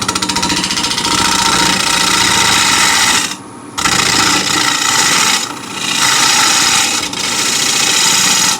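A steel card scraper, 3/4 inch wide and 6 mm thick, smooths timber with loud, continuous raspy scraping strokes, close up, broken by two brief pauses between passes.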